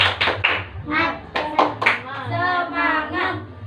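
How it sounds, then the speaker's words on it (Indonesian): Primary school pupils in a classroom perform a rhythmic 'tepuk semangat' clapping routine, with sharp bursts of hand claps in a quick pattern mixed with children's voices and chanting. "Ulangi, tepuk semangat."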